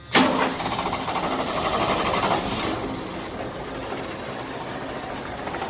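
A 1983 Ford F150 with a 4.9 liter straight six, already warmed up, turns over and settles into a steady, fairly loud idle with a continuous mechanical drone, alone and close by.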